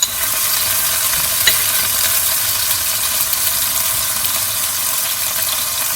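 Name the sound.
green chutney added to ginger and garlic sizzling in pan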